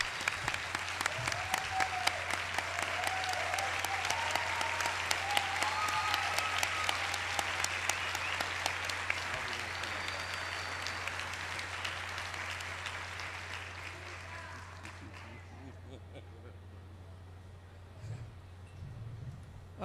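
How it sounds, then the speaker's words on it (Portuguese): A standing ovation from a seated audience at a spiritual talk, dense sustained clapping filling the room for about fifteen seconds before fading out, with a few scattered claps trailing after. "ela merece mesmo uma salva de palmas em pé aqui de todos nós"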